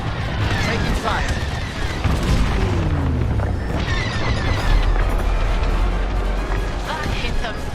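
Explosions and weapon fire crash continuously through a Star Wars Squadrons space battle, heavy booms and rapid blasts layered thickly with no letup, while voices talk over the combat.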